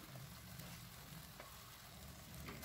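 Onion, ginger and garlic paste sautéing in a pan for a chana masala, a steady soft sizzle and frying hiss, faint and continuous with no talking.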